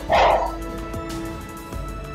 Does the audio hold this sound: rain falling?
no